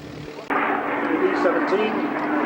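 A vintage aircraft landing at the Duxford air show gives a sudden loud, sustained broadband engine roar that holds steady throughout. The roar begins abruptly after a short quiet moment and stays close.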